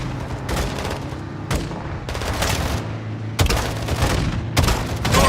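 Bursts of heavy gunfire from Call of Duty: Modern Warfare II, several loud volleys of rapid shots with booming impacts, separated by brief lulls and ending in close, punchy blasts.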